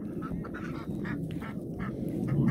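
Farm chicken in a countryside yard giving repeated squawking, honking cries in short bursts over steady low background noise, fairly close and growing slightly louder toward the end.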